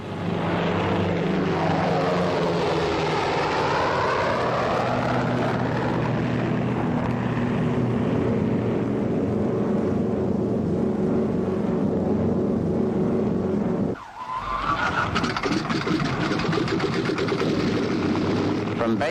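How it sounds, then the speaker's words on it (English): Military aircraft taking off at the outbreak of war, a loud sustained propeller engine roar with shifting pitch, briefly cutting out near the end before resuming, with no talk over it. "All American planes are ordered into the air."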